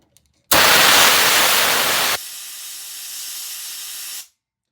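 Brake cleaner sprayed into the threads of a 1981 Shovelhead motorcycle engine case: a loud, close aerosol hiss runs about two seconds, then continues at a softer level before cutting off.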